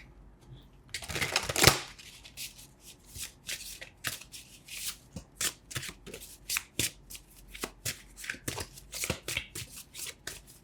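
Oracle cards are shuffled close by: a loud riffling burst first, then a long run of quick, crisp card slaps and flicks in an irregular rhythm.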